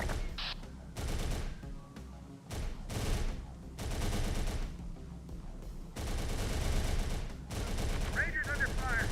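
Rapid gunfire and sustained automatic bursts from a Terminator: Dark Fate Defiance battle, loud and continuous with brief gaps, punctuated by sharp shots while a voice talks intermittently.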